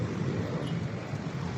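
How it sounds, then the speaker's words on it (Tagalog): Steady rain falls outdoors on a city street during a walk home in traffic, a soft continuous hiss and patter heard close and alone, with faint wind. "Oh my God, umuulan."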